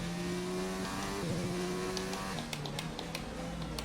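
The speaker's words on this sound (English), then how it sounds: "You can hear his engine now." Formula 1 car engine in the F1 2019 racing game during a race at Melbourne, a steady mid-pitched drone with harmonic whine that shifts pitch as it revs, continuous and fairly loud throughout.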